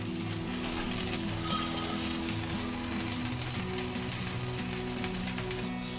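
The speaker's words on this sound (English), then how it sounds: "We will cook this toast on a medium flame till it becomes crisp from one side" Bread toast cooks in a little oil in a pan over a medium flame, making a soft, even, continuous sizzle that holds steady throughout, with a faint low hum beneath and no talking.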